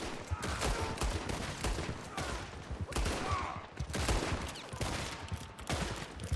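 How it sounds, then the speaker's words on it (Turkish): Rapid gunfire in the Red Dead Redemption 2 online game, a dense, loud barrage of shots crackling continuously and almost without pause. "Ya şu silah bak ya çok yavaş sıkıyor bu"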